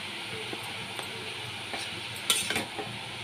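A spoon stirs hilsa fish head and ash gourd with turmeric and salt in a pan, giving soft scraping strokes over a quiet, steady sizzle, with a few sharper metallic scrapes toward the end.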